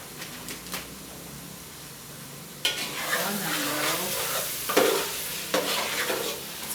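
A spoon stirs Edikang Ikong soup in a pot with soft scraping, swirling strokes, quiet at first and then a louder bubbling sizzle that gets rhythmic scrapes at intervals.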